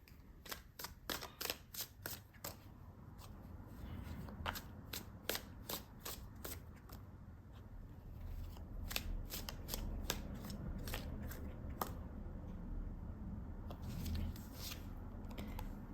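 Tarot cards are shuffled in repeated quick riffles and snaps, a rapid flurry of crisp, close-up clicks that continues throughout with short pauses.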